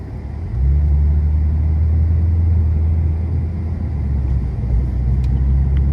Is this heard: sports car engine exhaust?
yes